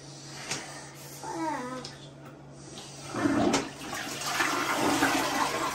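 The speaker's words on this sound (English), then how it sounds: "Flush it, please." Household toilet flushing in a bathroom, a rushing water surge that builds in the second half, with a young girl and an adult talking before and over it.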